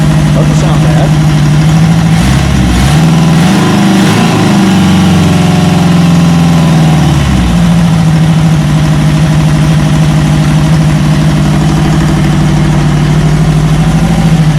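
Honda CB350F motorcycle engine idling after carburettor work, running a little rich with the choke on: a loud, steady close-up idle with a brief rev in the first seconds, then settling back to an even, continuous hum.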